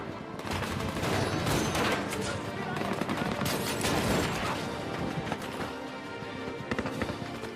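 A dense film shootout between snipers and Somali rebels, with continuous automatic and rifle gunfire crackling close and loud, overlapping shots with no pause throughout.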